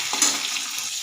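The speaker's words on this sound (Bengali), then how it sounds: "টমেটোগুলো একটু কষিয়ে নেব" Onions and tomatoes sizzle in hot oil in a wok, a steady, bright frying hiss with a small spatter early on, close and moderately loud with no talking.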